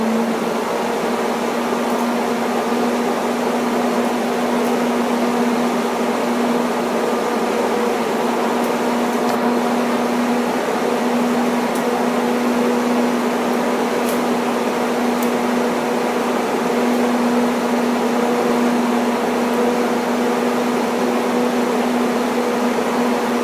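Electric radiator cooling fans on a Volvo 460 T5 AWD running at high speed, a loud, steady whooshing roar with a constant low hum, unbroken and close for the whole stretch.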